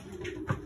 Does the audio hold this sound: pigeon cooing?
yes